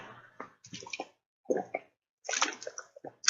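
Water being drunk, with several gulps and wet swallowing sounds in short bursts, close and fairly quiet, with pauses between sips.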